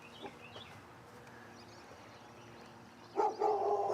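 Dog barking outdoors at a lakeside tournament setting, a couple of faint distant barks early on, then a louder, nearer burst near the end over quiet background.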